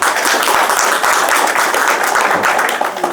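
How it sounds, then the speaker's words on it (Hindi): A crowd at a Peace Party political gathering in Kohariyawan, Khalilabad claps loudly for a doctor, dense sustained applause from many hands, close and steady throughout. "डॉक्टर साहब के नाम पर एक बार जोरदार ताली बजा दीजिए आप लोग"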